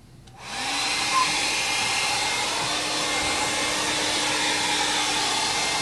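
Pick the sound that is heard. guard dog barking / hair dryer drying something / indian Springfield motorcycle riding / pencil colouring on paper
hair dryer drying something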